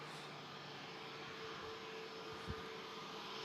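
An EasyJet Airbus A320neo at Manchester Airport produces a faint, distant, steady jet-engine hum, with one brief low thump partway through.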